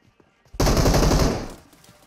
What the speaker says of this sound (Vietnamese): Ui, đứa nào bắn Clear